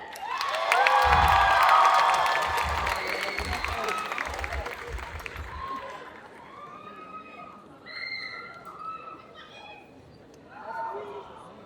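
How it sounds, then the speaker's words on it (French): A crowd at a cosplay contest applauds and cheers loudly for the cosplayers, with a strong burst of clapping and shouts that fades over several seconds into scattered whoops and excited high-pitched calls. "Je vous demande de faire un tonnerre d'applaudissements à Corinna, Bridget et Estelle."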